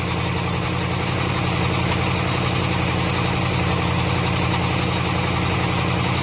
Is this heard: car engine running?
yes